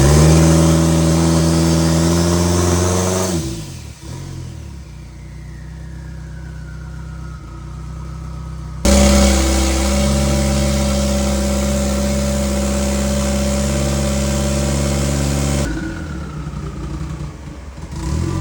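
A drift car engine revving hard on a dyno while its throttle is adjusted: a loud, sustained high-rev roar drops away near 3.5 seconds, surges back around 9 seconds, then falls off again near the end.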